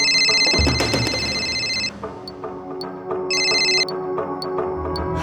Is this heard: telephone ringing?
yes